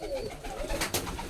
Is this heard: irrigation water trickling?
no